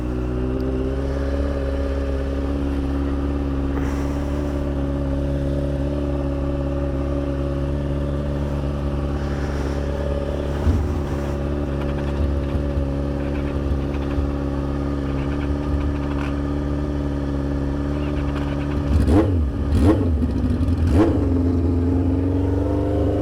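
Kawasaki 636 sport motorcycle engine humming steadily while cruising through downtown streets, a close, continuous mid-pitched drone with brief throttle blips and a few revving surges near the end.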